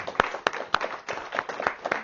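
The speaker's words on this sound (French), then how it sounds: "Je pense qu'on peut applaudir." Scattered hand claps from a small audience at the close of a talk, sparse and uneven rather than a full ovation, with irregular sharp bursts over about two seconds.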